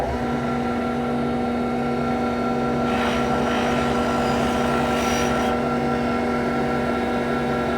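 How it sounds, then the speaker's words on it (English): A power buffer polishes wax on a neglected vintage hoe head after rust removal, giving a steady, loud motor drone throughout, with two brief rougher bursts where the wheel bites into the metal. "I'm just going to buff it out now"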